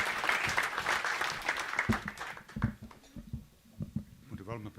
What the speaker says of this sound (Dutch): Applaus voor en het woord aan Jasper Schaaf.